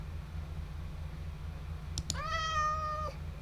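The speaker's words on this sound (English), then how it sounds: "And I'll just place a cat in here." A Minecraft cat gives a single clear meow, close and distinct, after two short clicks from placing blocks, over a faint low hum.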